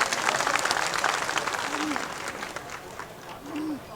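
A rally crowd in Delhi claps at a political speech, loud, dense applause spread across the clip with a murmur of voices mixed in.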